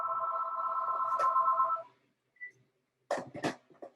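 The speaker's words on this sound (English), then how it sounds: "Just a second, that's my phone." A mobile phone ringtone plays a sustained electronic tone for about two seconds, then cuts off, followed by a brief beep and short bursts of other sound.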